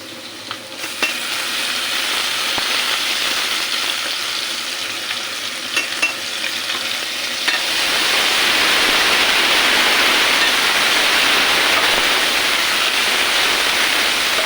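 Onions browning in a pan, a loud continuous sizzle that swells and thickens partway through, with faint utensil clicks early on and no talking.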